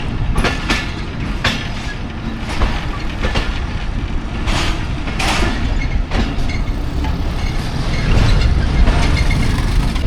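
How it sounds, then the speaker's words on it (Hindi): 130 Down train leaving Mianwali railway station, continuous close rumble with clattering wheel clicks and occasional squeals, growing slightly louder as it gathers speed. "130 डाउन डिपार्ट हो गई जी मियाँ वाली रेलवे स्टेशन से"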